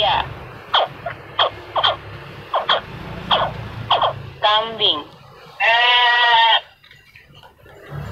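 An electronic Muslim educational e-book toy in four languages plays short recorded voice prompts, then a wavering goat bleat followed by a longer, louder, steady bleat.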